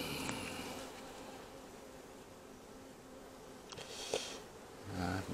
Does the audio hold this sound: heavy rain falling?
no